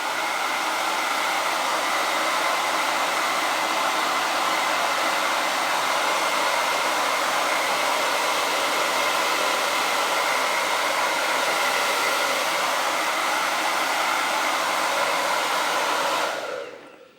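A hair dryer set to high heat blows continuously to melt Greenland wax into fabric, a loud, even, close roar that holds steady for about sixteen seconds before switching off.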